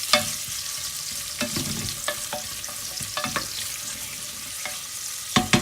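Onions cook in a soup pot with a soft continuous sizzle, broken by intermittent stirring clinks and scrapes from a utensil against the pot, close and moderate in level, with no voices.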